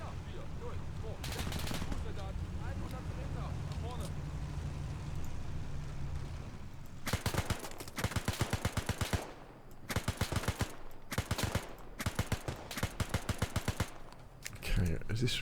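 Automatic gunfire in the Arma 3 video game during a WW2 Spearhead 1944 campaign: sustained rapid bursts that start partway through and keep coming, loud and close, with a player's voice heard earlier under the rumble.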